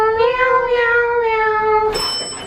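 A person voices a cartoonish meow imitation, a sustained wavering mew lasting about two seconds, loud and close, before a brief clatter of other noise at the end.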